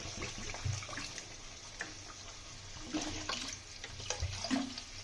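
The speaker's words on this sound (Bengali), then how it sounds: "আমরা গ্রেভি করার জন্য আর একটু জল দিয়ে দেবো।" Water poured into a bubbling potato curry gravy, a quiet splashing gurgle with soft bubbling pops and a low rumble underneath, close and faint, no speech.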